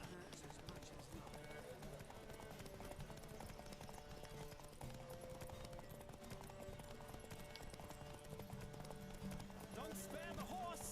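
Horse galloping in The Witcher 3 video game, a rapid continuous clip-clop of hooves under game music, with a voice speaking over it.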